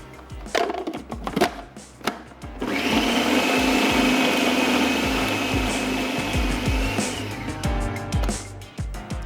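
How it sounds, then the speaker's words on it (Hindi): An electric grinder chops onion chunks and vegetables for a stuffed veggie omelette, whirring loudly and steadily for about five seconds, with clicks and handling knocks before and after. "थोड़ा सा इसको और हम पीस लेंगे ताकि स्पेशली जो प्याज के चंक्स हैं"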